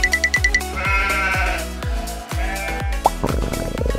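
Cartoon sheep bleat in a farm scene, several wavering bleats mixed over bouncy music with plucked, plopping notes throughout.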